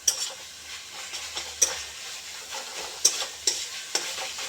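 Chicken with chana dal frying in a pan, a steady close sizzle broken by several sharp stirring scrapes and clicks spread through the clip, with no voices.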